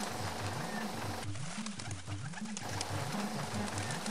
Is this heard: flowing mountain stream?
no